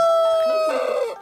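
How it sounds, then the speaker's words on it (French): A rooster crows once, a loud drawn-out call that wavers and then trails off, heard clearly on its own in a storytelling setting. "cocorico."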